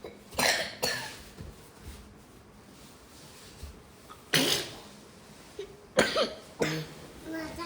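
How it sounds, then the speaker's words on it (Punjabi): Several sharp coughs and sneezes burst out indoors, about four separate loud bursts spread across the stretch, with quieter room sound between them. "ਕਿਸੇ ਨੂੰ ਖਾਂਸੀ ਕਿਸੇ ਨੂੰ ਛਿੱਕਾਂ"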